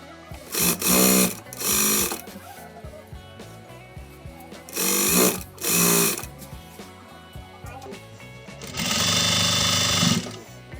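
A sewing machine stitches lace trim in loud, steady bursts of whirring, several separate runs with pauses between them and a longer final run, close by with no talk.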